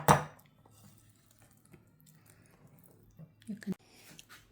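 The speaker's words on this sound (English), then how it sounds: "Mix it until everything is combined." Chocolate cake batter stirred in a bowl, with soft scraping and a few light clinks of utensil against the dish, fairly quiet and close.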